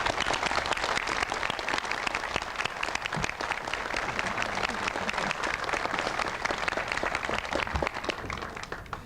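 An audience at a science facility dedication ceremony applauds, a sustained, even patter of many hands clapping at moderate distance, continuing steadily without voices.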